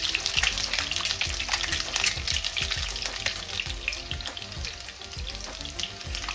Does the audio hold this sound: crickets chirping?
no